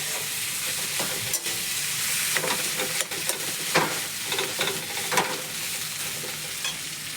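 Potatoes frying in a pan for a mashed potato dish, with a steady close sizzle broken by repeated scraping stirs of the spatula throughout, no talking.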